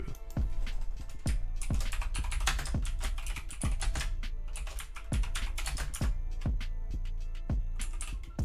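Someone types on a computer keyboard, producing rapid, uneven clicking keystrokes up close. The clatter runs continuously and alone, with no voices.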